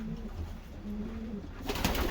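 Racing pigeon cooing softly nearby in a loft, a low murmuring coo followed by a brief rustle.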